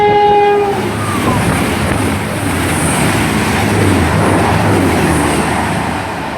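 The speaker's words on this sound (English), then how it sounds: "Trains 221 coming through platform 4." A Virgin Trains Class 221 diesel unit passes through Milton Keynes Central, opening with a loud horn blast, then a sustained close roar of engines and rushing carriages that fades slightly at the end.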